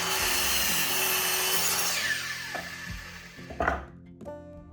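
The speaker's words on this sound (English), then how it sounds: "We sand the surface and round the edges." A power sander works over 105 mm by 30 mm Hinoki cedar deck boards, whirring steadily up close for about two seconds before it winds down and the clatter of handling follows.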